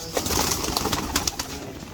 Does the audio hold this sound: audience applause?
no